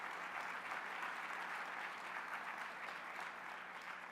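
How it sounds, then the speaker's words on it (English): Applause from a crowd at an environmental symposium keynote, a faint, distant, even wash of clapping that carries on steadily without voices. "Give him a great round of applause."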